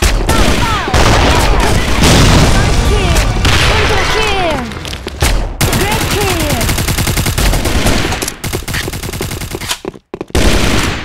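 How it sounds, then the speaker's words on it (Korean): Dense automatic gunfire and explosions in the Sudden Attack online shooter game, including a thrown grenade blast, loud and continuous with brief gaps, and voices speaking over the battle. "수류탄 투척."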